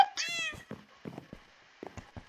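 Cats meowing inside a video game: one clear, high drawn-out meow up front, then a few short, softer mews and chirps at intervals, fairly quiet overall.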